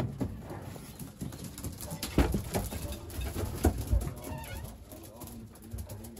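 Racing pigeons in their home loft after a race, soft cooing and rustling wings close by, with scattered taps and flutters over a busy, continuous background murmur.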